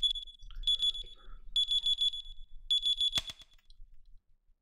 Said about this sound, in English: the alarm turns off.